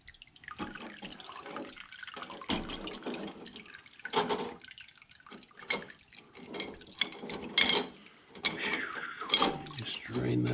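Liquid draining and dripping off Jaguar MKII carburetor parts after a soak, close splashes and trickles in uneven bursts with small metallic clinks, a voice speaking between them.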